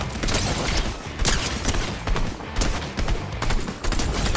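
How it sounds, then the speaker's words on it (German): Rapid bursts of Fortnite gunfire, loud and close, with overlapping shots and short pauses between volleys. "Oh, da ist Schüsse."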